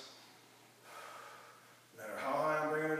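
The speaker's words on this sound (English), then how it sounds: "So remember, I have to breathe behind tight muscles," A person breathes in sharp, strained gasps and snorts while holding tense muscles during a static hold exercise, the breaths growing louder and more forceful toward the end.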